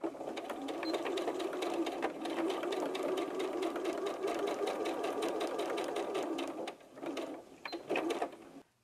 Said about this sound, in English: We're going to sew both of these inner crotch seams.